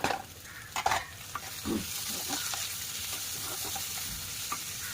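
Chopped onion with green chilli sizzles in a pan as chopped tomato is added, a few sharp spatula scrapes and clinks at first, then a steady close frying hiss.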